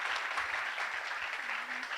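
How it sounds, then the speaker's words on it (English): Applause from an audience at a career and innovation session, a dense, even patter of many hands clapping, moderately distant and steady throughout without voices on top. "Big round of applause."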